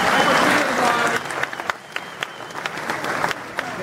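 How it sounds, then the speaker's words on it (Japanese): An audience at a fight event applauds both fighters, a loud wash of clapping that thins after about a second into scattered individual claps, with faint crowd voices underneath. "今一度両選手にどうぞ盛大な拍手をお送りください。"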